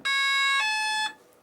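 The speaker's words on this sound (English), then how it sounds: "That last tune right there says, okay, I'm all ready to go." Electronic speed controller on an Xfly Tasman 1.5 m RC plane playing its ready tune: a steady electronic tone that steps down in pitch partway through, clear and close, lasting about a second.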